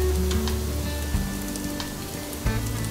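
Risotto with arborio rice simmering in a pan, a steady soft sizzling crackle with faint low bubbling, alone and close.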